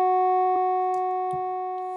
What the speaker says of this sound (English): we found a one-shot piano stab that really sounded like a digital one